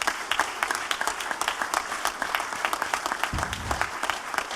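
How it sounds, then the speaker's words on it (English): A large audience gives a round of applause at a public candidate event, dense continuous clapping that stays loud and steady throughout with no speech over it. "Please give yourself and these people a round of applause."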